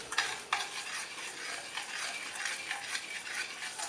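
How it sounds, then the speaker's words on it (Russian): Sugar syrup being stirred in a pot over low heat, a soft bubbling simmer with light scraping strokes and an occasional clink of the utensil, close and quiet with no talking. "Я постепенно помешиваю наш сахар."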